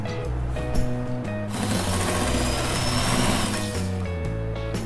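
Sewing machine stitching a palazzo trouser seam with a half-inch allowance, running steadily and close by for the whole stretch, its motor hum swelling in the middle before settling back to a lighter whir.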